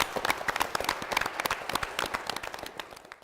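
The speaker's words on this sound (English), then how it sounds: "Let's give them a round of applause." Audience applause for contestants on a team quiz game show, a dense run of sharp claps and crowd noise that starts strong and gradually thins out.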